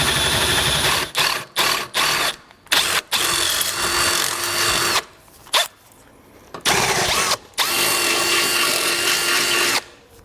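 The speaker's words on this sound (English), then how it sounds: "So I grabbed a bit, and we'll just carefully open those up to the size indicated in the instructions." A power drill bit enlarges existing holes in a 2013 vehicle's subframe while fitting a Roadmaster crossbar-style base plate, running in loud bursts of whirring with short pauses between them and no talk.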